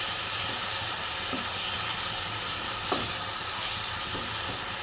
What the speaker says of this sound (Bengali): আর এটাকে ভালো করে নাড়তে থাকবেন যেন নিচে না লেগে যায়